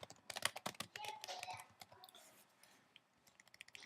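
Typing on a computer keyboard, fast bursts of crisp key clicks that thin out into sparse separate taps toward the end, close and clear with no talk.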